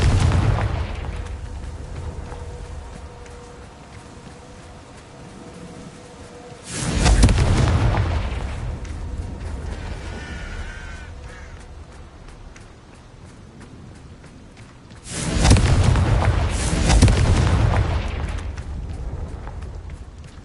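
Bombarda and Confringo spells fired in the Hogwarts Legacy video game: two heavy, booming magical blasts several seconds apart, each with a rumbling tail, over a low, steady game ambience.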